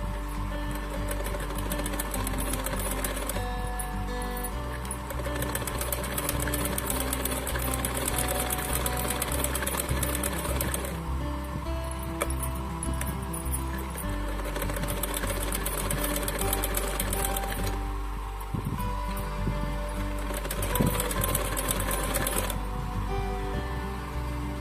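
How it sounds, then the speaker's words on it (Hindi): A sewing machine stitches a half net blouse in long, steady runs with a dense mechanical rattle and hum. It pauses briefly between runs and plays alone, with no voices. "अब हम इसको सिलना स्टार्ट करते हैं।"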